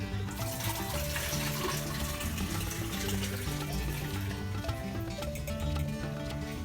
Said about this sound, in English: We're going to strain out our kefir grains.